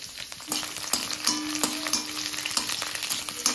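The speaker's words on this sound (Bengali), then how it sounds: "এখন আমি কাঁচা লঙ্কা দিয়ে দেবো।" Green chillies frying with garlic in a little oil in a home kitchen pan, a steady close sizzle broken by scraping stirs and sharp crackles, with no talking.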